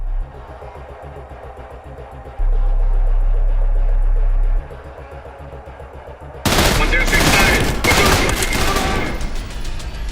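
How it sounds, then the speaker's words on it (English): Gunfire from a first-person shooter video game, Trepang2: after a low, humming stretch, a loud burst of rapid automatic shots fires in quick succession and keeps going to the end. "the accuracy of these guns is terrible"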